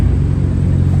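Mitsubishi Evo engine at a car meet, a loud, steady low rumble close by that stays level for about a second.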